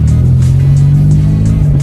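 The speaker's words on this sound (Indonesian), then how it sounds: "Dan kita coba gas-gas tipis nih teman-teman." A Suzuki Swift Mk1 with its 1000 cc engine is given light throttle blips. The engine gives a loud, steady, close-up hum throughout, with no voices over it.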